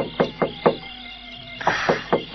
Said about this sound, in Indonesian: Dia mengetuk-ketuk pintu lagi.